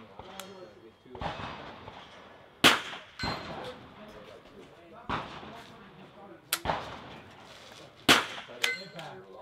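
Rifle bullets striking steel targets at an NRL22 rimfire match ring out as several sharp metallic clangs spread across the stretch, each a loud crisp strike among quieter outdoor range noise and faint voices.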